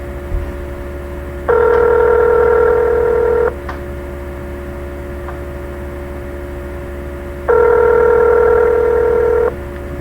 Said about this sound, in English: Oh, now it's ringing.